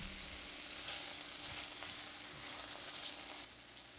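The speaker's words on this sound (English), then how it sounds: "go ahead and give that a stir" Corn and onions with ancho chili powder and a pinch of salt sizzle quietly in a Dutch oven, a soft continuous frying hiss broken by a few faint scrapes of stirring; low in level and without speech.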